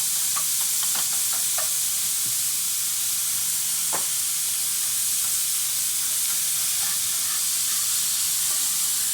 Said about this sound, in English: We'll get the meat cooked just a little.